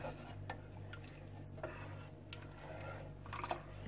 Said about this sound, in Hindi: स्पून चलाते रहना है इसके अंदर,